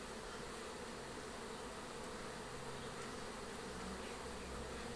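Honey bees buzz densely at an opened hive during a honey inspection, a loud, continuous swarm drone filling the air with no pauses.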